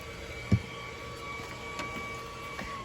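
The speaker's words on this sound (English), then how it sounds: "Sorry about that blower in the background." A leaf blower drones steadily in the background during yard work, a constant broadband hum with a faint tonal whine, interrupted by one brief thump.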